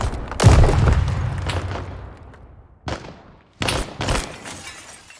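Gunfire in a video game mission: a loud opening blast with a long rumbling decay, followed by two shorter, sharper shots after a pause, with no voices.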